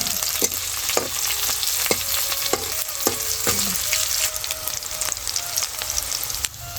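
Green chillies and vegetables sautéed in a hot pan for a spinach dish crackle and sizzle continuously, with rhythmic scraping strokes of a spatula against the pan close by and no talking.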